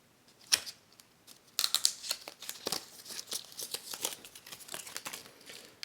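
Thin plastic wrap is peeled off an Apple AirPods Pro charging case, making close, quiet crinkles and small tearing rustles in irregular bursts.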